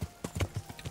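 Horse hooves clip-clopping in the medieval game Kingdom Come: Deliverance, a steady rhythm of about six hard hoof strikes in one second, close and clear with no talking.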